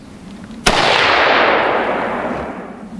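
A single AR-15 rifle shot fired through a muzzle brake, a sharp loud crack followed by a long, gradually fading rumble and echo across an outdoor range.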